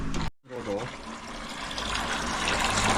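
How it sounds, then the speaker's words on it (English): Pond water drains into a bucket, a steady close gush of filling liquid that follows a brief silence and continues with a growing wash; a voice talks briefly at the start. "we're going to start draining the water, first a bit in the bucket"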